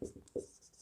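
A few quick, short strokes of writing on a board, faint and close, in a classroom-style lesson.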